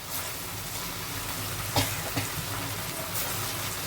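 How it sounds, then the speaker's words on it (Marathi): Pressed taro-leaf (arbi) bhaji pieces frying in hot oil until browned, giving a steady close sizzle with a couple of brief pops and clatters and no talk. "तेलामध्ये सोडायचं. मस्त फ्राय करून घ्यायचं, चांगलं लाल फ्राय करायचं, एकदम ब्राऊन होईपर्यंत."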